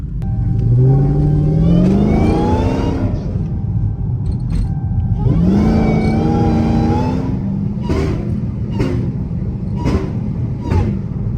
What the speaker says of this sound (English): That's all exhaust right there. You barely can hear the whine.